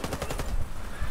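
Gunfire in the multiplayer shooter Warface during a clan war match: a rapid burst of automatic shots over the first half second, then a dense, noisy battle wash with scattered impacts.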